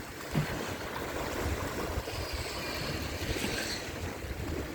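Steady rushing wash of Black Sea surf at Arcadia beach, Odesa, with wind noise over the microphone, continuous and fairly close, with no voices.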